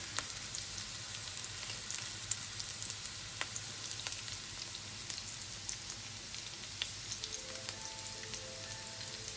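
Chopped onion and garlic sautéing in oil in a pan, a continuous soft crackling sizzle with scattered pops, moderately close and steady, no voices.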